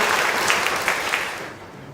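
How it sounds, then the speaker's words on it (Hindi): The studio audience of a Ramadan quiz show applauds a contestant who answered every question in the round correctly, a short, even burst of many hands clapping that fades toward the end. "मेरे बोलने से पहले ही तालियां बज गई"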